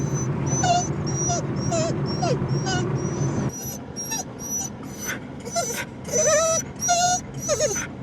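Dog whimpering and yipping in short high whines, heard alongside background chatter and outdoor noise before a beach outing with family.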